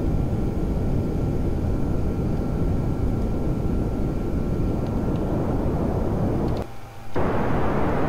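Kerbal Space Program rocket engine at full throttle: a loud, steady broadband roar running continuously, with a brief dip near the end before the roar resumes.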